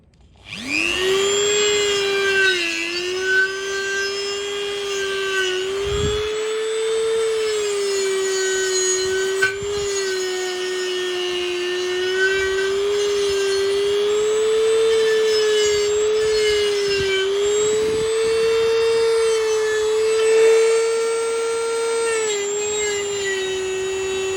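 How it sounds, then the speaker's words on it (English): A Dremel grinds continuously on a raw steel frame of a 2000 Yamaha YZ250 motorcycle, producing a loud, close, high-pitched whine whose pitch wavers slightly as pressure changes, with occasional brief scraping bumps and no talking. "with the Dremel, I should be able to get in there a little bit more precise now"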